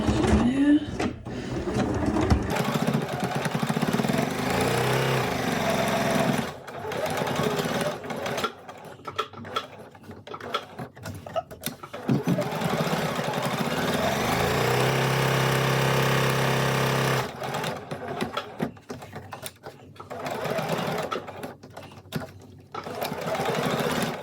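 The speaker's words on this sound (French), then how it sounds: "Je fais une couture ici avec un fil bleu marine" A sewing machine stitches a seam in navy blue thread, a steady mechanical whirring hum that starts and stops in several runs, close and loud, with a person speaking over it at times.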